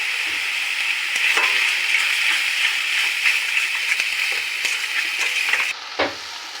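Ginger, cumin and garlic paste with a little sugar sautéing in hot oil, a steady close sizzle broken by scraping stirs and spoon taps, the frying dropping off sharply near the end.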